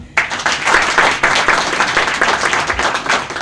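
Sustained applause from an audience at a Democratic Party anniversary gathering in Kruševac, dense, steady clapping from many hands filling the room for the full stretch without a break.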